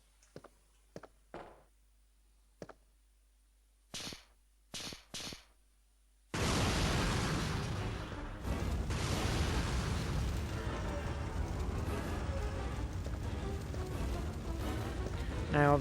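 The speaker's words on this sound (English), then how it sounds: "Now the explosion will occur." A Resident Evil 3 video game explosion bursts in loudly after a few faint taps, then settles into a sustained roaring, crackling rumble of fire and debris that fills the rest of the scene.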